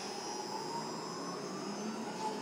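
A Bridgeport Romi EZ Path-S 17" x 40" lathe spindle turns at about 1,000 RPM in low range, giving a steady, even mechanical whir with a faint high whine and no voices over it.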